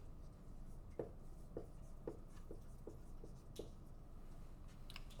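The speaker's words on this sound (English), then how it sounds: "I'm going to write this value over here" A pen or pencil writing out a number by hand, a faint series of short scratchy strokes in an irregular rhythm over quiet room hiss.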